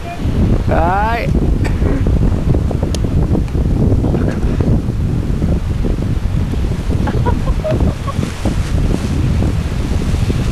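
Strong steady wind buffets the microphone at a cliff-top paragliding launch, a loud continuous roar through the whole stretch, with brief voices breaking in over it.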